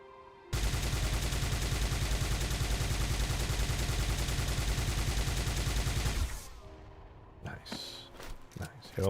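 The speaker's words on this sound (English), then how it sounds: "Halo 1 assault rifle sounds." Halo 1 assault rifle from the Halo video game fires one long, loud, rapid automatic burst of about six seconds, then stops, leaving scattered mechanical clicks and clatter.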